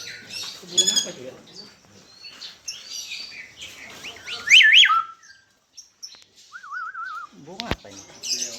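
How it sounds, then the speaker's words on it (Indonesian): Parrots (beo) at a roadside bird kiosk in Lampung give sharp whistles and chirps, some loud and close, with a few warbling calls amid intermittent talk. "Burung beo ini sebenarnya."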